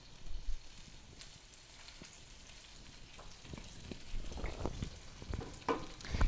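Liquid hits a hot chicken roasting tray to deglaze the fat and browned drippings, a soft hiss and sizzle that swells toward the end, with faint clatters and no voices.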